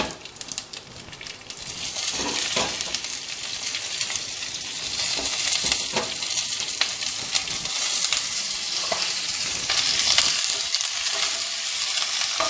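Cumin seeds, dried red chillies and curry leaves frying in hot oil, a dense steady sizzle with crackling pops and occasional stirring scrapes, close and continuous with no voices.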